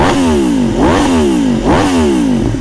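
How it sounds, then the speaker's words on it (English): A motorcycle engine revs repeatedly on a bridge, three loud rising-and-falling throttle blips in steady rhythm, close and dominant with no talk. "You guys want some revs? I love revving on this bridge because there's nobody around."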